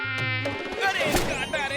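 A cartoon mosquito buzzes in a high, wavering whine that swoops up and down, close and fairly loud, amid short comic sound effects and musical stings.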